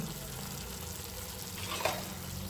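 Fish fries in a pan with a faint, steady sizzle and crackle, heard alone and without a break for a short moment.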